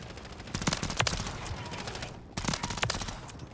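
Pistol hipfire in Modern Warfare 3 gameplay: sharp gunshots in two quick bursts, several rapid cracks around the first and third seconds over a steady game-ambience bed, loud and close.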